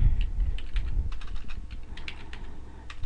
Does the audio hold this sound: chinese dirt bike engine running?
no